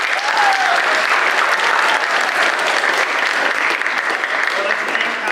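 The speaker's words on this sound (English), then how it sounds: "Round of applause for them." Sustained audience applause fills a church sanctuary after a choir is introduced at a lullabies and stories concert, steady and dense throughout with no talk over it.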